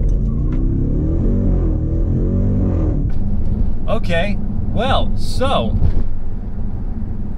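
A 2020 Jeep Grand Cherokee Trackhawk, 707 horsepower with an 8-speed automatic and all-wheel drive, rumbles and accelerates hard, the deep engine note rising and swelling while someone talks over it.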